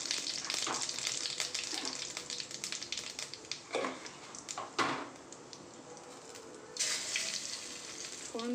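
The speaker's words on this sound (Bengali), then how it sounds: "এবার দিয়ে দিচ্ছি গোটা জিরে আর শুকনো লঙ্কা কিন্তু ফোড়ন দেবো।" Whole cumin seeds and dried red chillies hit hot oil for tempering, a loud steady sizzle with sharp crackles and pops, brief metallic stirring knocks, and a short quieter stretch before the frying surges again.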